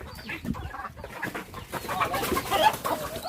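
Agitated ducks squawk with flapping scuffles close by, rising in intensity as the birds are caught and handled.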